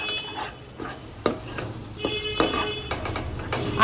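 Ground spices being stirred into mutton korma in a pan, with soft scraping strokes and light knocks of a spoon over a quiet sizzle, no speech.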